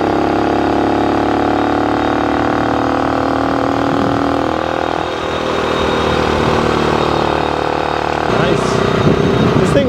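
A motorcycle engine runs loud and close, revving up and settling through gear changes, with a rough mechanical drone throughout and someone talking over it.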